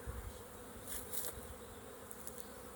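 Honeybees inside an opened hive while they build wax comb, a faint, steady insect drone that holds level throughout with slight swells, heard alone.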